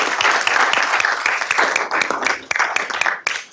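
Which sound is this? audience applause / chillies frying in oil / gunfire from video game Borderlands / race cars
audience applause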